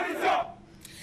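Crowd cheering and shouting to welcome President Alassane Ouattara at the airport in Brazzaville, a brief loud swell of voices that quickly fades.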